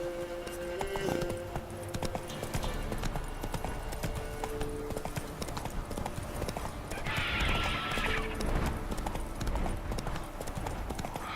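A horse gallops in The Witcher 3 with rapid, steady hoofbeats over busy game sound, and a short neigh or whinny cuts in partway through.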